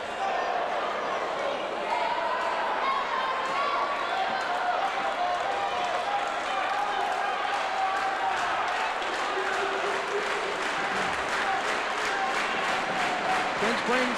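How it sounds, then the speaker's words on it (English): A home crowd at a 1993 high school basketball district semifinal in Clinchport, Virginia, cheers and roars in a dense, steady din, with rhythmic clapping building toward the end and a commentator talking over it. "Twin Springs crowd getting back into the ball game."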